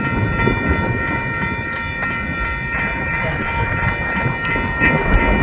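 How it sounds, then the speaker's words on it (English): Union Pacific locomotive approaching from the Robert Street lift bridge in St Paul, a loud steady engine drone with sustained tonal whine and rolling rail noise over the whole stretch. "Union Pacific locomotive coming up from the Robert Street lift bridge"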